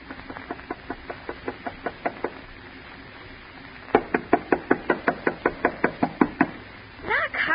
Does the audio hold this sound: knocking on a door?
yes